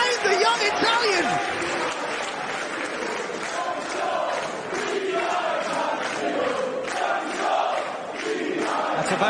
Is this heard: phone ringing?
no